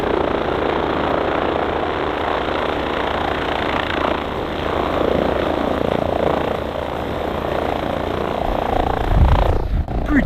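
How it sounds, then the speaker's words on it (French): A helicopter flies nearby in a snowy avalanche setting, giving a loud, continuous rotor and engine roar that swells and fades slightly, with a rough thump near the end. "Yo, il y a un hélicoptère juste là."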